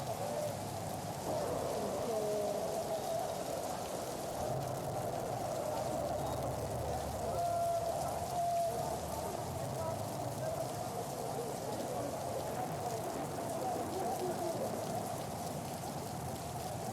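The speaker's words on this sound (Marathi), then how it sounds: "पुण्यात पावसात किती भयंकर परिस्थिती निर्माण झालेली आहे त्याचं हे उदाहरण इथं म्हणावं लागेल" Heavy monsoon rain pours steadily over Pune streets, a dense continuous hiss lasting throughout with some indistinct background sound mixed in.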